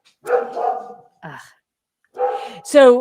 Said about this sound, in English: We adopted this insane dog, and he's mostly good, but he alerts.